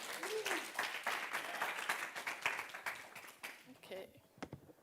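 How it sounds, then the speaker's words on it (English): An indoor audience at an intern final presentation event claps for a presenter, a moderately faint, dense patter of many hands that thins out toward the end as voices murmur underneath. "round of applause for Megan"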